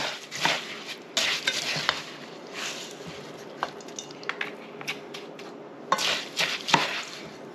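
A spoon stirs a warm suet and peanut butter mixture in a pot, giving irregular clinks and scrapes against the metal with quiet gaps between, close and fairly loud, with no talking.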